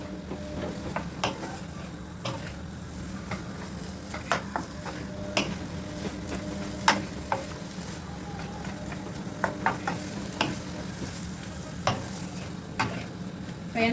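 Large onions sauté in a pan for beef meatball kafta, a soft continuous sizzle with scattered clicks and scrapes of a utensil stirring against the pan, heard up close.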